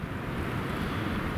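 Wind on a spring mountain summit at Kotyol, blowing as a steady, broad roar of gusts buffeting the microphone, fairly faint, with no voices.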